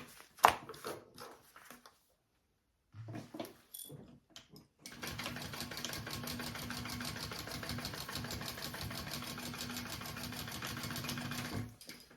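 Sewing machine running a seam on the lining of a sling bag, a few short starts with a gap before settling into a long steady close whir that stops near the end.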